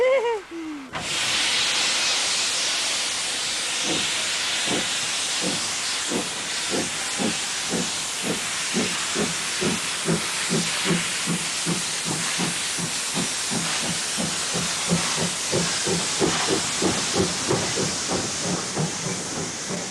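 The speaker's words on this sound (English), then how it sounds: "Let's take a trip back in time and have a ride on one of them old trains" A steam locomotive hisses loudly, then rhythmic chuffs begin slowly and steadily quicken as the train pulls away, with a steady roar of steam throughout.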